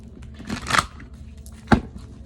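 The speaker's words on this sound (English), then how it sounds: "we're gonna shuffle real quick" Tarot cards are shuffled by hand in two quick riffling bursts, one soft and spread out, the second shorter and sharper, heard close and alone.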